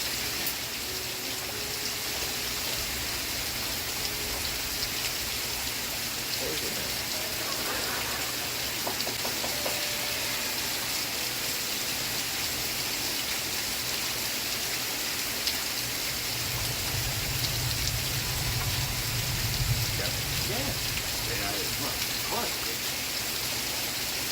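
Steady rain falls continuously across the whole stretch, a broad hiss with faint television dialogue and music murmuring underneath from an old TV show playing in the background.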